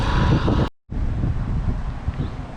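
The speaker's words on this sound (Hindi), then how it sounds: "बट हवा का शोर आएगा तो आएगा भाई, वो मैं कुछ कर नहीं सकता उसका" Wind buffets the microphone outdoors in a parking lot, a loud rumbling roar that cuts out for a split second and then resumes.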